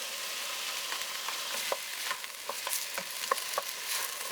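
Sliced okra frying in a pan for a Trinidad okra and rice dish, a steady close sizzle broken by scattered light stirring taps and scrapes, no talk.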